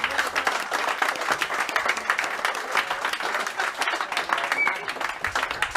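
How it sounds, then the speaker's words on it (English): An audience applauds with dense, continuous clapping that stays steady and fairly loud throughout, with no break or fade. "Round of applause for Jimmy."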